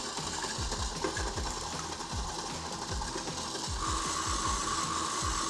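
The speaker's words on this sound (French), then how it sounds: "on va mettre en route le batteur et on peut tourner fort" An electric mixer beats almond cream in a bakery kitchen, a steady close mechanical whir with fast rhythmic ticking from the beaters, no voices.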